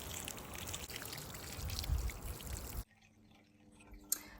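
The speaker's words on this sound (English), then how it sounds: "but first we're gonna water the plants" Water poured onto houseplants, a broad splashing pour running steadily for nearly three seconds before cutting off abruptly, followed by a quiet room with a few faint drips and one brief knock.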